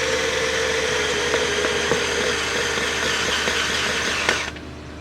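A power drill or driver whines steadily, driving screws one after another into a septic riser, loud and close, with small clicks along the way before it stops near the end.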